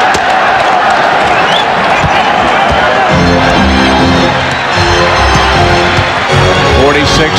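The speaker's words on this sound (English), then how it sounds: "Crowd chanting during those free throws" Crowd noise filling a basketball arena during free throws at a 1995 NBA playoff game between the Cleveland Cavaliers and New York Knicks, a dense continuous roar with rhythmic chanting swelling in the second half.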